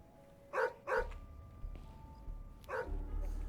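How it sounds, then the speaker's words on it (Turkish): In the video game Schoolboy Runaway, a dog barks twice in quick succession, then once more a couple of seconds later, loud and close over low background rumble. "Saldı köpek saldı ya."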